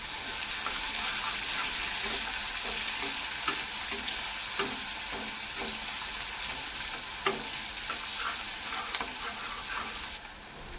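Garlic and finely chopped onion fry in a pan, cooking for lasooni methi. A steady close sizzle runs throughout, broken by scattered clinks of stirring. No voices.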